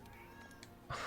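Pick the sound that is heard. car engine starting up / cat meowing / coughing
cat meowing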